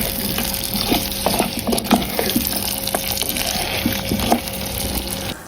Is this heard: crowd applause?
no